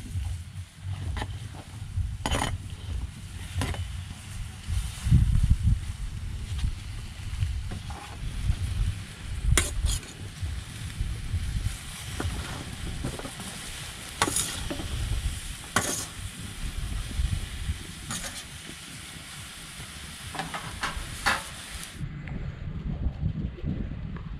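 Coconut milk with jackfruit bubbles and simmers in a pot, a low continuous burbling with occasional sharper pops and clinks, fairly close and moderately loud.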